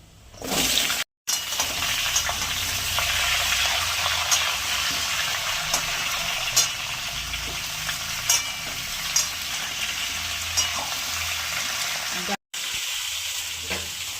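Vegetables go into a pan of frying bay leaf, dried chilli and panch phoron, setting off a steady, bright sizzle that runs continuously with occasional sharp crackles and pops.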